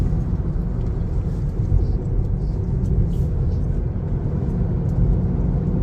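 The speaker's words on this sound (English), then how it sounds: "when passing cars, this Tesla does it with ease" Tesla climbing a mountain road and passing cars, with a steady loud rumble of road and wind noise throughout and no clear speech.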